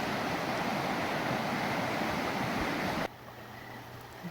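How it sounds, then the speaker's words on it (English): The Logan River rushes under a bridge at night in a dense, steady wash of flowing water. The sound drops sharply to a softer, quieter flow near the end. "I'm standing on a bridge over the river. I just love that sound."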